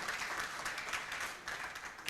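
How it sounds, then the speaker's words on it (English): Audience at a town hall meeting in Lira clapping their hands in steady, dense applause for about two seconds, moderately distant and fairly quiet, with no voices over it. "I think he deserves a very good hand clap"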